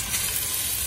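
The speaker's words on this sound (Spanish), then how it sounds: "Machacando y friendo." Garlic fries in olive oil in a pot, a steady, close, broadband sizzle and hiss that holds at an even level with no pauses.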